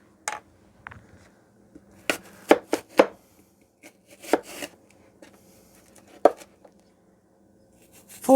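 A knife cuts a bad spot out of an apple, with sharp, irregular clicks and taps of the blade against the fruit and a cutting board in an otherwise quiet room.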